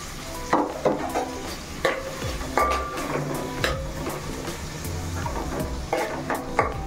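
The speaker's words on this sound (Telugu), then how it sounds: "టమాటా కూడా వేసుకుంటున్నానండి, పచ్చిమిర్చి" Tomato and green chillies being stirred and fried in a pan, with repeated scraping spoon strokes over a steady close sizzle and occasional clinks against the pan.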